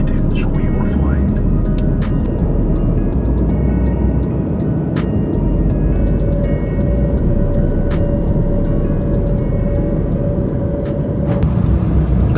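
Steady, loud broadband drone inside a passenger jet cabin in flight between Switzerland and Dubai via Jordan, with a faint tonal hum and occasional small clicks throughout.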